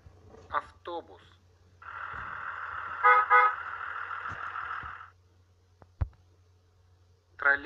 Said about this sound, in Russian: Автобус.